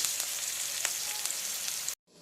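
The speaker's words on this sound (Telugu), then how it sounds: "ఆనియన్ కొంచెం మంచిగా వేగాలండి" Onions fry in a pan seasoned with turmeric and salt, giving a close, steady, loud sizzle with a few faint crackles. It stops abruptly near the end.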